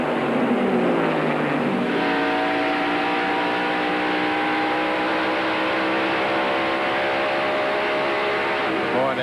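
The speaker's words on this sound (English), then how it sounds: "That motor is turning up some RPM." A 1993 NASCAR Winston Cup stock car screaming at high RPM on the Dover Downs track, a loud sustained engine wail with rising and shifting pitch and crowd-and-track noise behind it.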